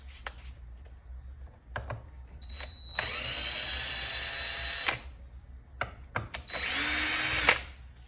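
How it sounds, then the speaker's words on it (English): A cordless power drill backs bolts out of the carburetor on an Echo small engine, whirring loudly in two bursts of about two seconds and under a second, with light clicks and taps between them. "I'm going to be using it with a drill."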